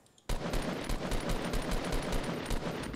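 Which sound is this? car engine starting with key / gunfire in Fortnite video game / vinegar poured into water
gunfire in Fortnite video game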